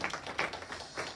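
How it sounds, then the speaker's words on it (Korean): An audience claps at an academic conference keynote, a short, fairly faint patter of hands in a hall. "박수 한번 쳐주세요"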